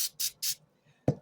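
Three quick hissing bursts of spray aimed at sticky Grinch cookie dough, close and evenly spaced, then a short pause, a faint rustle and a soft thump.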